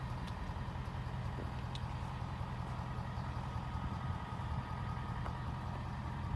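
A Ford F-450 truck's engine idles steadily nearby, a low continuous rumble with a faint periodic hum and no one speaking.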